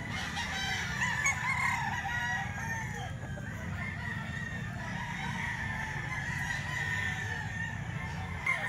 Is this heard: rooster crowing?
yes